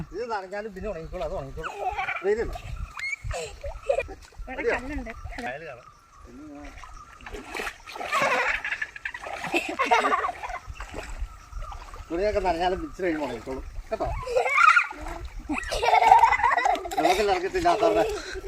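Water splashes in bursts as children wade and play in a pond, with voices talking and calling out over the sloshing throughout.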